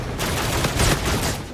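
Rapid gunfire rattles through a round of Call of Duty: Infinite Warfare multiplayer, a dense, continuous burst of shots filling the whole moment at close range.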